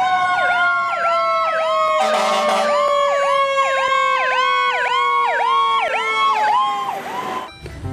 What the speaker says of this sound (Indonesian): Ada juga mobil pemadam kebakaran